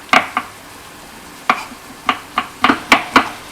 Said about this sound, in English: I'm gonna chop next the garlic and ginger. Chop them very finely